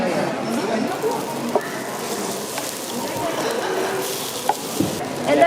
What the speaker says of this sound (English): We fry it for like 1-2 minutes and then flip it over